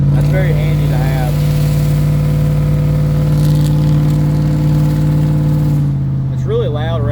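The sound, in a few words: truck with bored-out 5.3L Vortec engine revving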